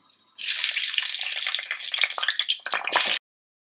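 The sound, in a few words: onion frying in hot oil on high flame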